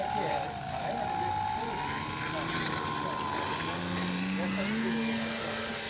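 A small engine drones with shifting pitch as a Dynam Tiger Moth RC model plane flies overhead in a crosswind, rising and falling in tone, with faint voices in the background.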